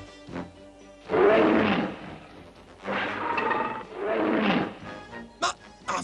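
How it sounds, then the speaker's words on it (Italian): A real lion roars in a police comedy, three long, loud, rumbling roars separated by short pauses, followed by a few sharp, brief sounds at the end. "Il capo non ci ha parlato di un leone vero."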